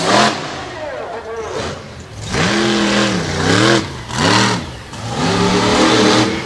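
The Brutus monster truck's big engine revs repeatedly at a freestyle show in an arena, rising and falling in several loud swooping bursts while an announcer talks over it.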